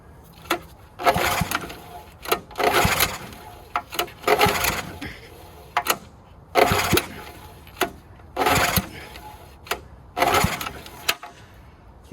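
Seized Honda GX270 engine being cranked: repeated strained, sputtering pulls in uneven bursts, about ten attempts over twelve seconds, close and moderately loud, never catching.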